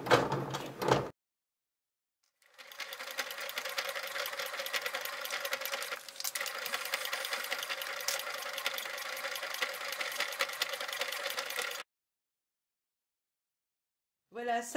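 A sewing machine stitches a transparent PVC vinyl pouch close to the edge, running in one steady, rapid whirring burst of about nine seconds, framed by silence and short handling noises.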